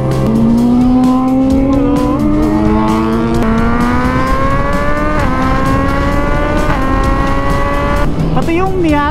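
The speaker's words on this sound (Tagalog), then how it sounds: "Ito yung preheat niya. Ang taas ng RPM, oh. Cold start." A Nissan GT-R idling high on a cold start, producing a loud, close, continuous engine drone whose pitch climbs gradually, with a few small steps, before settling lower near the end.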